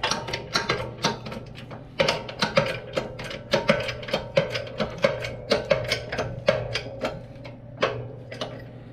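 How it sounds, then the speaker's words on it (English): A press works to straighten a bent blade from a brand-new generic JCT brush cutter, giving a run of sharp, ratcheting clicks and metallic ticks in an uneven rhythm, close and fairly loud, with no talking. "I'm going to throw this thing in the press real quick and see if we can at least take that bend out of it"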